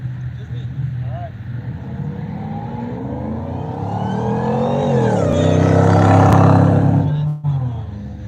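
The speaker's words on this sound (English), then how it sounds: "That F-150 Lightning just gapped that BMW E46" A Ford F-150 Lightning electric pickup drag racing a BMW E46 at a street legal dragway: a loud rising engine roar and whir builds to a peak as the vehicles pass close by, then drops off abruptly.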